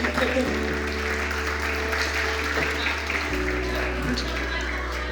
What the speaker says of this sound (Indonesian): tepuk tangan Pak teman-teman